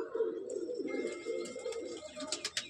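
Pigeons coo in a home loft of Madrasi pigeons, soft repeated low calls mixed with a few higher chirps and light rustling, close by and without talk.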